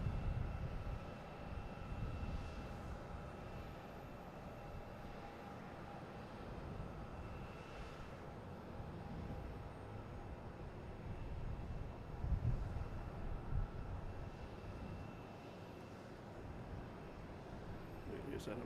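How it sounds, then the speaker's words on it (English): An American Airlines airliner on approach to land at Boston Logan Airport gives off a steady, broad jet roar that swells slightly midway and holds throughout, with some faint background noise. "Here's that American Airlines coming in."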